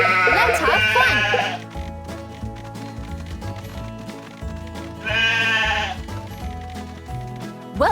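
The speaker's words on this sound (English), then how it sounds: "All right, you hungry sheep. Follow me." Cartoon sheep in the Paw Patrol Academy video game give two loud, wavering bleats, one at the start and one midway, over bouncy background music.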